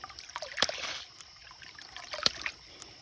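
Water bleeds from the drive line of a homestead ram pump, a faint trickling and dribbling with a couple of sharp clicks, close by and quiet.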